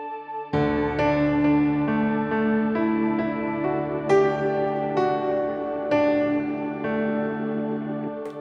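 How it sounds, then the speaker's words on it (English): Sustained piano chords with a soft Hammond B3 organ bed, drenched in a bright, shimmering reverb that rings out between each new chord, from the intro keys part of a worship song. "this intro has piano and a little bit of B3 and a ton of shimmer on the piano"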